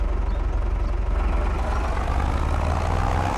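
A heavy vintage tractor engine runs steadily at close range, a low, even rumble that holds at constant loudness throughout.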